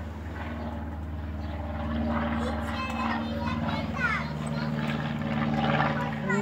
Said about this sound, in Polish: O, samolot widać.